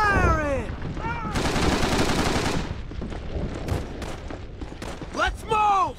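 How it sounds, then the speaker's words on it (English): Rapid gunfire rattles through a Call of Duty 3 street battle, with bursts of automatic shots, a long loud roar of firing, and shouting voices cutting in over the combat. "That's it, keep firing!"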